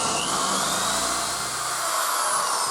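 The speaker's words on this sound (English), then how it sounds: "I think we'll drill right there." A power drill bores into a wooden nutcracker, whining steadily and loudly up close, its high buzzing tone continuous with a slight dip in pitch partway through.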